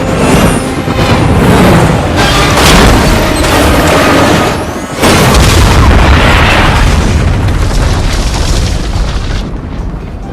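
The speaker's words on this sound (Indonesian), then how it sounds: "dia berhasil meledakkan senjata sialan itu yang menghancurkan hampir separuh Gedung Putih" Massive explosion tearing apart the White House in the action film Olympus Has Fallen, a loud sustained roar of blasts and rumbling debris with a brief dip midway before a second heavy surge of booming destruction.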